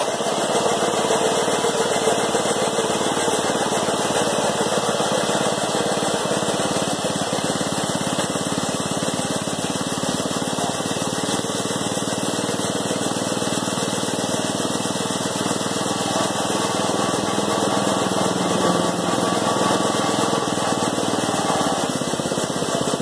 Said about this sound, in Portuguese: Vamos dar partida no motor.